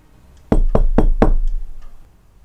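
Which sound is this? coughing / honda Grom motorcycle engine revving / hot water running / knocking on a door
knocking on a door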